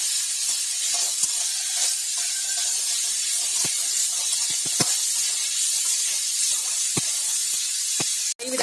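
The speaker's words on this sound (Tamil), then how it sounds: "அது முடிக்க நம்ம வதக்கிக்கிட்டே இருக்கணும்." Green beans stir-fried in a pan for a beans masala, with a steady close sizzling hiss and scattered clicks and scrapes of stirring throughout, and a sharp knock near the end.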